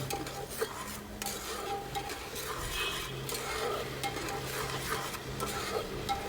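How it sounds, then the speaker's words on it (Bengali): A spoon stirs a spice mix with ginger and salt in a pan for Bangladeshi pilaf, making soft scraping strokes and light clinks over a faint sizzle. "দিয়ে ভালোভাবে এটাকে নেড়ে চেড়ে নিতে হবে"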